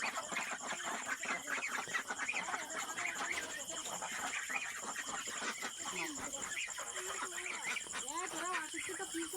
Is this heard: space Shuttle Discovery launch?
no